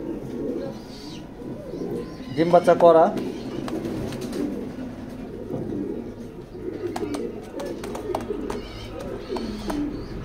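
Pigeons in a loft coo in soft, throaty, repeated calls. A louder burst of cooing comes early on, and someone talks over the birds throughout.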